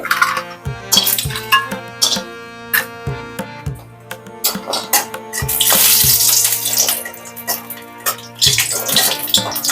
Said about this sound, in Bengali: তেল গরম হয়ে গেছে এবারে আমি বড়িগুলোকে ছেড়ে দিচ্ছি তেলের মধ্যে